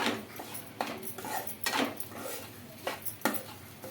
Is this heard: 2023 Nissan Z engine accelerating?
no